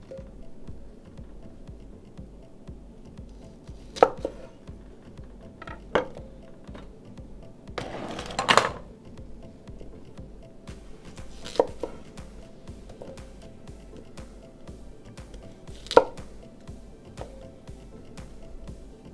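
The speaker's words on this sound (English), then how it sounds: "Next thing we're going to do is we're going to cut them in half and just set them aside in our bowl." A knife halves Brussels sprouts on a cutting board, producing sparse, distinct chops spaced a few seconds apart over a quiet background, with one brief rustling handling sound midway.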